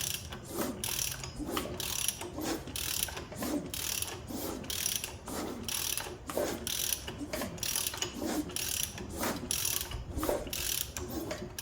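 A ratchet turns over a Ford 351W engine during a camshaft and pushrod install, making about a dozen rhythmic clicking strokes at a steady pace. The sound is close and continuous, and no one speaks.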